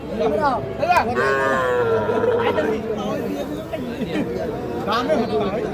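Cattle at a cattle market moo in long, loud, drawn-out calls close by, while people talk and chatter around them throughout.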